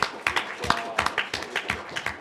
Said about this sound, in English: A round of applause for all y'all.